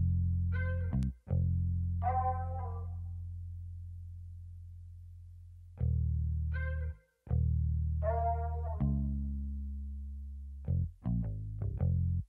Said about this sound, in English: The bass was dueled with a slide guitar that sounds like this.